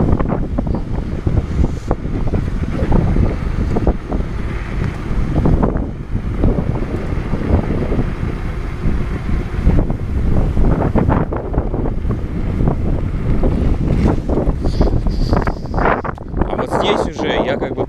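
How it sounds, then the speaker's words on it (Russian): Strong headwind roaring over the microphone while riding an electric bike, a steady loud rumbling buffet throughout with constant gusting and no letup. "Очень ветрено."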